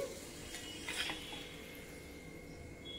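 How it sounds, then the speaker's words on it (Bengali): A quiet, continuous sizzle of flour-and-egg snack pieces frying in a pan of oil, with a few soft scraping and clinking touches of a utensil against the pan. "বাকিগুলো আমি একইভাবে ভেজে নিচ্ছি।"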